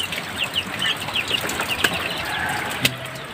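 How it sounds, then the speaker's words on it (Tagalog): Chickens cluck and flap their wings nearby on a farm, with short scattered calls and a couple of sharp wing bursts over a noisy background. "May mga manok kasi"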